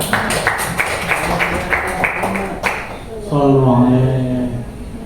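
Audience applause at a teachers' module dissemination session: a steady patter of many hands clapping for a few seconds, then giving way to a voice speaking over fading claps.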